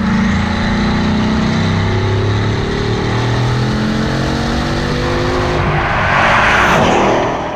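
A Bugatti Chiron hypercar with its quad-turbocharged engine accelerating hard, a loud continuous roar with rising engine pitch through the gears, heard close and alone without talk.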